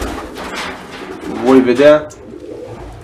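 Racing pigeons in a loft give low, throaty coos, one louder burst standing out, while someone speaks over them.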